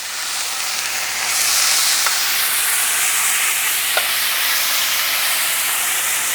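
Browned chicken pieces sizzle loudly in a hot pan after being flipped, a steady close frying hiss with a couple of faint clicks, no talking.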